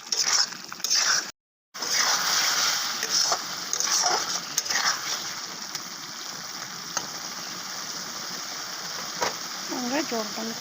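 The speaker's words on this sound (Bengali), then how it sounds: "জলটা হয়ে গেলে জলটা দিই।" Water is poured into a simmering paneer and tomato gravy in a pan. A steady hissing, streaming sound runs through the clip, with a brief gap near the start and a faint voice in the background.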